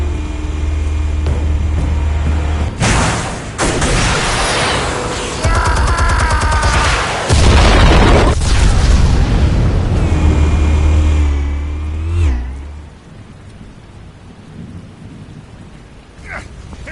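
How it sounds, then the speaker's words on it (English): Explosives detonating in the Batman Telltale game: heavy booming blasts and rumbling debris roar loudly for several seconds, then die away into a quieter, hollow tail. "Explosives armed. Fire when ready."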